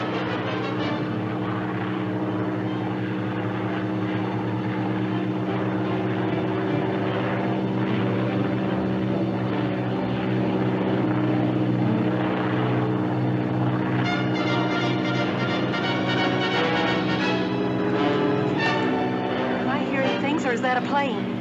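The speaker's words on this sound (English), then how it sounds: "Or is that a plane? That's a plane," A propeller plane flies overhead in the 1946 serial Lost City of the Jungle, a steady, loud drone that fills the whole stretch while people talk over it.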